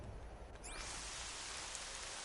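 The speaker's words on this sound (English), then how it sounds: "Look at the rain." Steady rain in the video game Horizon Zero Dawn, a dense, even hiss that fills the scene throughout, with a brief whooshing sweep early on and no talking over it.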